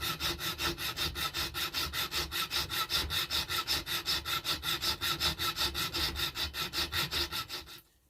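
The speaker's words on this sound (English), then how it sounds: "Just hacking about 5mm off these machine screws so that they're the right depth." Hand-sawing about 5mm off the ends of machine screws in a workshop: fast, steady back-and-forth rasping strokes, close and evenly rhythmic, running continuously before stopping abruptly.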